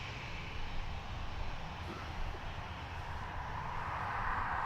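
Ryanair airliner at Dublin Airport, a distant steady engine rumble and hiss that rises gently toward the end, fairly quiet and heard on its own.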